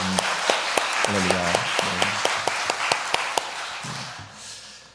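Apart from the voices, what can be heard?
congregation applause in church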